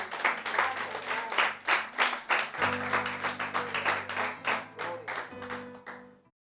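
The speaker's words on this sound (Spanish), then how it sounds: "Dale un aplauso al Señor" A church congregation claps together in a steady, rhythmic applause, many hands beating in time at close range over a faint sustained tone, then fading out abruptly.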